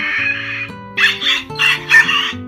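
A person imitates bird sounds, giving a run of loud clucking, squawking calls in quick bursts over steady background music.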